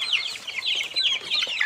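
A three-week-old joper chicken clucks while being picked up, giving a quick run of shrill, squawking clucks close to the listener that keeps going with no pause for its full short length.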